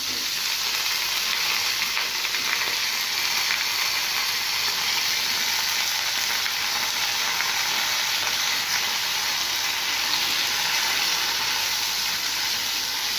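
Sliced raw plantain frying in hot oil with mustard seeds for a village-style plantain fry, a steady, dense sizzle and crackle that stays loud and close throughout with no voices.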